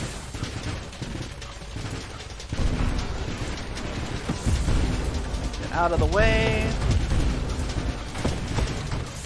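Explosions from mines dropped in the space shooter Nova Drift, booming bursts and crackling blasts over game effects, with someone talking throughout.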